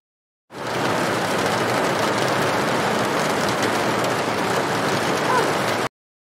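Cartoon sound effect of steady rain falling, a dense, even hiss that starts abruptly, holds at constant loudness for about five seconds, then cuts off.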